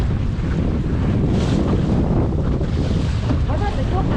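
Wind buffeting the microphone and waves washing against a Laguna-Kombi+ sailing dinghy out in a bay, a steady rushing roar with splashing water and no talk.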